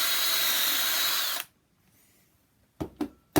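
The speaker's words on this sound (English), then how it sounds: "drill a hole in the top for 1/8 of an inch bit" A power drill with an 1/8 inch bit whines steadily and loudly for over a second, cuts off, and is followed by a few sharp knocks.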